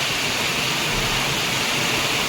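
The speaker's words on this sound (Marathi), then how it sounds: "आमच्याकडे फुल पाऊस सुरू आहे" Heavy monsoon rain pours down in Surat, a dense, loud, unbroken hiss of water that fills the whole stretch without any gaps.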